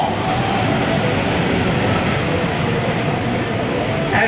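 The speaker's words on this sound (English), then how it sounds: "he'll clean up the airplane and taxi back to our parking place" Broad, steady roar of a C-17 Globemaster III military transport aircraft taxiing at an air show open house, loud and continuous throughout with no clear changes.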